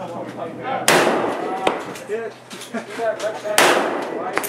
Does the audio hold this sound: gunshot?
yes